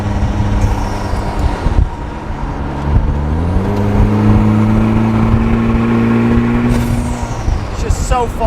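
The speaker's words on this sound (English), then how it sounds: "It's just so fun to drive this car." A 2020 Vanderhall Venice three-wheeler driving, its engine droning close by, then climbing in pitch around the middle and holding a higher, steady note as it pulls ahead.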